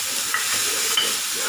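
Goat brain stirred into nearly cooked masala in a village-style pan, giving a steady sizzle of frying with a couple of scraping stirs, close and fairly loud, with no talking.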